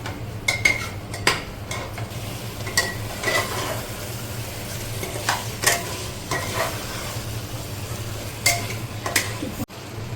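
Chicken pieces with potatoes frying hard over a high flame for a Kolkata-style biryani, stirred with a utensil: a continuous loud sizzle with frequent metallic scrapes and clinks against the pot, no talking.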